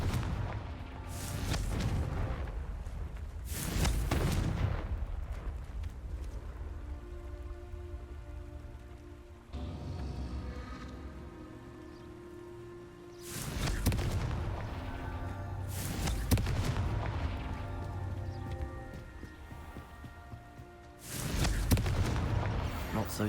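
Confringo blasting-spell explosions in Hogwarts Legacy go off as several loud, heavy booms that recur every few seconds over a steady rain-like ambient wash.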